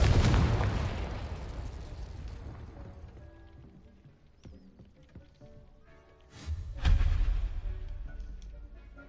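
A Confringo blasting spell explodes in Hogwarts Legacy with a loud, booming burst at the start that decays into a rumbling tail, followed by a second heavy blast near the end.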